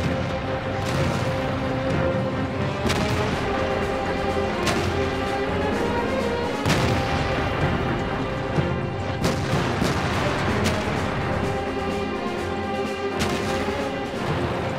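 A World of Tanks battle against five Tier 8 tanks fills the scene with repeated booming cannon shots and sharp impacts over a constant heavy rumble, loud and dense throughout.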